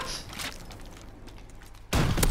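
Bazooka M1 rocket explosion in Call of Duty WWII: a sudden loud, broadband blast close by that hits near the end, following a stretch of dense, crackling battle noise.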